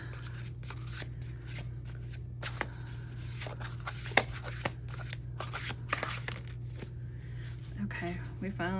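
A new deck of tarot cards being shuffled, with soft irregular riffling and flicking sounds close by, over a steady low hum and a faint voice in the background.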